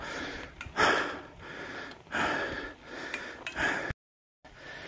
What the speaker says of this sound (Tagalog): Wala kayo may maririnig dito, hindi puro hingal ko.